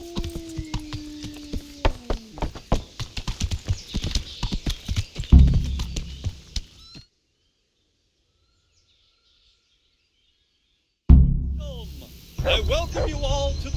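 Horse hooves clip-clopping in the Kingdom Come Deliverance video game, a rapid run of hoof strikes with a voice talking briefly at the start, then a burst of crowd noise before a long silence and a return of busy sound.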